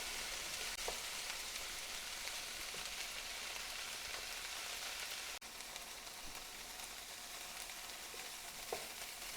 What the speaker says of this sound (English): Now we're going to just give this lot a little stir. It is a stir fry after all.